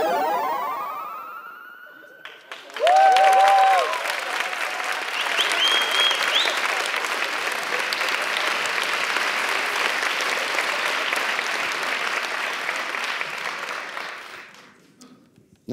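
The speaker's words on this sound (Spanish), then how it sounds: "No entiendo el aplauso." Studio audience applause on a late-night show rises after a short musical tone and holds as a dense, loud, steady roar of clapping for about eleven seconds before fading out.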